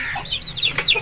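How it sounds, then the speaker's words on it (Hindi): An Aseel hen clucks softly among her chicks in a short burst of close, chirpy calls and low clucks. "ये मादी के साथ चूजे हैं जी भाई।"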